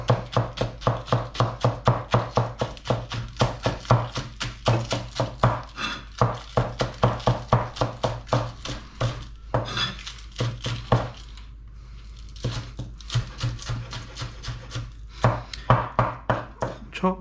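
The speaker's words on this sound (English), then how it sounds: "now you gotta chop up your spring onion" A cleaver chops spring onion on a board in fast, even runs of sharp knocks with a brief pause partway, close and clear, no talk.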